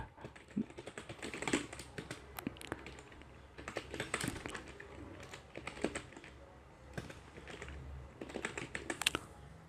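Steady typing on a computer keyboard in bursts of rapid key taps, close and fairly quiet, with short pauses between runs and no talking.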